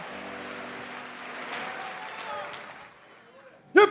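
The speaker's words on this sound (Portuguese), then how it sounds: "Se é para Jesus, pode aplaudir mais forte." Congregation at a church service clapping together, a dense wash of applause that holds steady then thins out and fades, with a voice breaking in at the very end.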